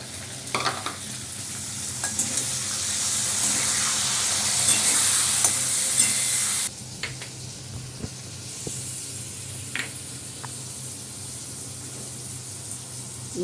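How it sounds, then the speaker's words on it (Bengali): Long beans (barbati) sizzle and fry in a pan while being stirred, a steady bright hiss that drops off halfway through, followed by quieter scraping and occasional stirring knocks. "বরবটিটা দিয়ে দিলাম, একটু ভাজা হোক"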